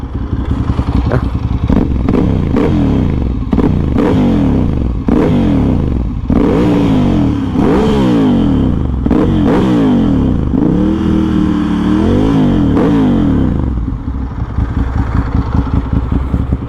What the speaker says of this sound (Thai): เดี๋ยวผมเบลให้ฟังเสียงสักนิดนะ